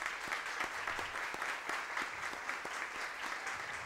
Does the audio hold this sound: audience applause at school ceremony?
yes